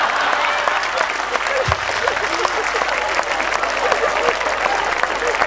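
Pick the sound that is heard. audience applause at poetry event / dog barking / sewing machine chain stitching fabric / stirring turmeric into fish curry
audience applause at poetry event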